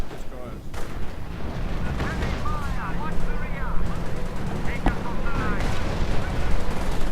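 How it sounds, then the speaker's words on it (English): An artillery barrage and gunfire rumble on without a break in a WWII strategy video game, with a commentator talking over the dense booming. "Panzer is once more caught in another artillery barrage."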